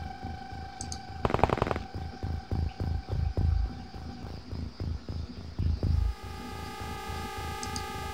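Weapons fire in the X-Com: UFO Defense video game cracks out in a run of sharp, evenly spaced bursts over a steady electronic hum, with a short denser volley near the start.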